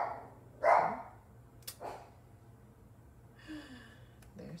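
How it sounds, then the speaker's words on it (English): A dog indoors gives a couple of short barks, one louder and one softer about a second apart, faint and somewhat distant in an otherwise quiet room. "There's the dog."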